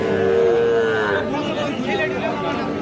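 Sahiwal bull calf at a Raniganj cattle market gives a long low moo that slides downward, heard close over a busy crowd murmur with people chattering nearby.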